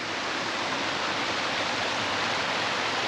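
Close by in the Cheviot Hills, Northumberland, a waterfall gives off a loud, constant roar of falling water that fills the scene without a break.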